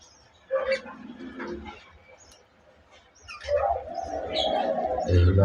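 Budgerigars kept in a cage chirp and warble in scattered bursts, with a louder stretch of chatter toward the end and a low hum running underneath.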